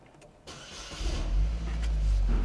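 Close up, a Buick Verano's engine starts from a push-button ignition, a brief starter whir rising into a low, steady idle rumble.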